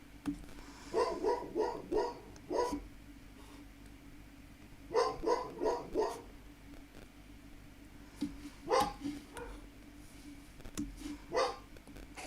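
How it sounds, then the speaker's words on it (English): Dogs bark in short bursts of three or four yips, pausing between volleys, moderately close against a quiet room. "And my dogs are barking."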